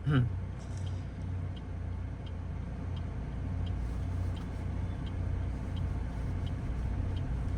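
A manual car creeps forward slowly in gear on a half-engaged clutch, its low engine rumble steady and close throughout with a few faint clicks and rattles, no talk.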